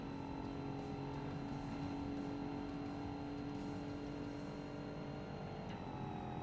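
A 3,500-pound Nissan sedan races in Forza Motorsport, its engine holding a steady, fairly quiet drone with a faint rough rumble underneath.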